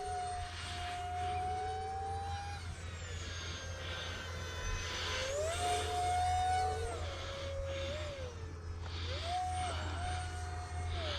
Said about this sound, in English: You can just hear the air going over this thing